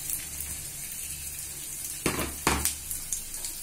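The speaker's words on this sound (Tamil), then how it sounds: "இதில் இஞ்சி பூண்டை பேஸ்ட்டை போட்டு வெங்காயம் கருவேப்பிலை இதெல்லாம் போட்டு கொஞ்சம்" Ginger garlic paste, onion and curry leaves sautéing in hot oil, giving a steady close sizzle broken by two or three louder spatters as the ingredients are stirred, with no talking.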